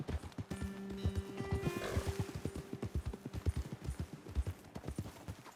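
Horse hooves clip-clop in a steady walking rhythm in Red Dead Redemption 2, fairly quiet, with a faint sustained tone running under the early hoofbeats.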